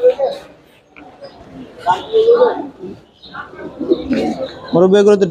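Soft, low cooing of pigeons at a pigeon market in Mirpur comes in short bursts between stretches of nearby talk, with a louder coo near the end.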